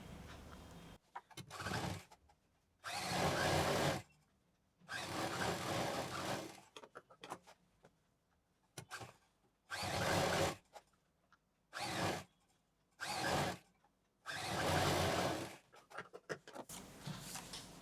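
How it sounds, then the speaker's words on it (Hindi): A sewing machine stitches the sides of a folded lace shoulder bag in repeated bursts of fast whirring, each lasting one to two seconds with quiet pauses between, close and clear. "इस तरह से डबल फोल्ड करेंगे और दोनों साइडों में सिलाई कर देंगे"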